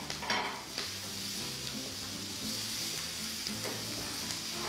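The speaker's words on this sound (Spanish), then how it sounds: "vegetales que vamos a freír aquí, hacer un sofrito" Onion and vegetables fry in fat in a pan for a sofrito for a country-style lentil soup, giving a steady close sizzle with scraping stirring strokes and light utensil clinks, no voices.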